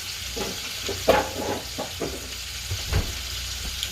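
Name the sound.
thyme and rosemary sizzling in frying oil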